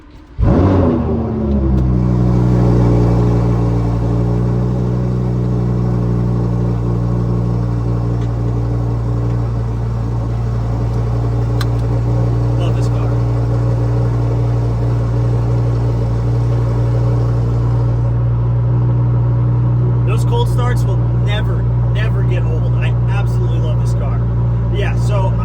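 A Lamborghini engine rumbles deep and steady in sport mode on a drive in poor weather with the engine cold, starting with a burst then holding a loud, low drone, while a person talks over it.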